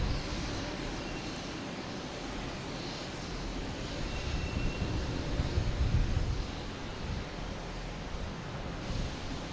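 A Delta Embraer 175 jet on its Boston Logan landing sends out a broad, rumbling roar of engine and wind noise that swells and fades, heard from a distance, with no talk.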